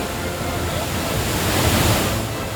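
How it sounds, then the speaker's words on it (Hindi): Floodwater rushing down ashram stairs during heavy monsoon rain in Chitrakoot, a steady broadband roar of churning water that swells slightly midway, loud and continuous with no pauses. "पानी सीढ़ियों से होता हुआ आश्रम के निचले हिस्से में चला गया।"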